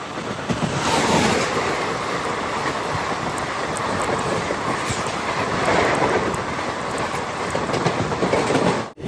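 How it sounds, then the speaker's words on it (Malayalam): The Puducherry–Dadar Chalukya Express passes close by in a loud, continuous roar of rolling wheels and rattling carriages, with a faint clatter over the rails throughout. "പുതുച്ചേരി ദാദർ ചാലൂക്യ എക്സ്പ്രസ് ഇതാ കടന്നു വരികയാണ്"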